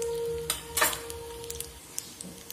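Ajwain and chilli hit hot mustard oil in a tadka pan, a brief burst of crackling sizzle with a spoon clinking and stirring against the metal, then a quieter fry fading under a low hum.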